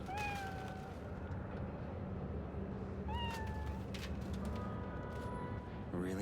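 A cat in Cyberpunk 2077 meows repeatedly in drawn-out, rising-then-falling cries, several calls spaced a few seconds apart, heard over a steady low game ambience.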